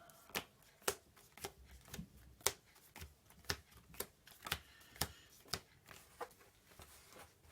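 A deck of cards for the Iron Helm dungeon-crawl card game is riffled and shuffled in a quick series of sharp, crisp riffle bursts, close to the mic, with no talking.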